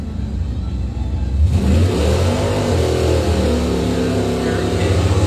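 A Pontiac drag race car launches at a season-finale drag race, its engine revving hard into a loud, rising roar that climbs through the gears and stays close and dominant.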